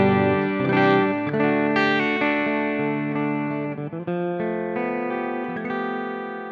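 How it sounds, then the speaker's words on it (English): Electric guitar chords ring out through an amp with a touch of reverb, sustained notes and a short muted pause midway, played alone. "Let's hear just, you know, the guitar, the amp, a little bit of reverb"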